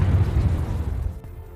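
A loud, deep boom with rumbling low end that rolls on and then cuts off abruptly, a single explosion with no voices present.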